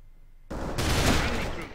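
A gunfire headshot in AVA: after a quiet moment, a sudden loud burst of shooting erupts and rings on as a dense, sustained crackle to the end.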